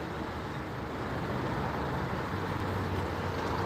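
Mercedes-Benz Sprinter bus passing on a Gloucester road, a steady broadband roar of engine and tyres with general traffic noise, fairly constant in level throughout.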